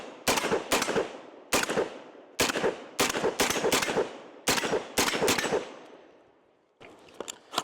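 A Genesis Gen-12 10.5-inch short-barreled shotgun fires Hornady reduced-recoil double-aught buckshot outdoors, about ten loud sharp blasts in uneven quick succession, each with a brief echoing tail.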